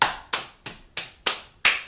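Six sharp hand claps in a steady, even rhythm, close and crisp with no voices.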